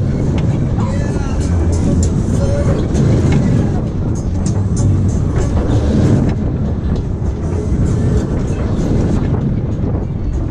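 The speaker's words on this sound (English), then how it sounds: "I'll have a ride on the Runaway Train as well." Runaway Train fairground ride at a lakeside holiday park fair running with a steady loud rumble and rattling clatter throughout, mixed with crowd noise and some talking.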